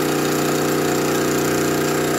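PFAFF 2545 ECO Powerline industrial sewing machine running with automatic backstitch set, a steady dense mechanical whir and hum that holds constant throughout, close and fairly loud.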